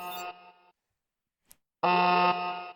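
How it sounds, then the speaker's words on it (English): Alarm going off in the video game Theia: The Crimson Eclipse: two bursts of a loud, steady, harmonic electronic siren tone separated by a silent gap, the second louder and longer, with no talk. "That's an alarm."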